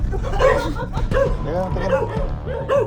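Several sharp, close dog barks and yips in an irregular burst, with people talking at the same time.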